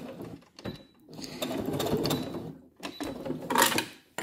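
Sewing machine backstitching to finish a seam on a fabric card holder, a close rattling whir in two short runs separated by a pause, with quiet mechanical clicks.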